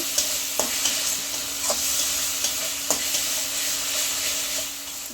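Spice masala with sugar being stir-fried for spinach dal, a steady sizzle and hiss with a spatula scraping and knocking the pan at regular intervals.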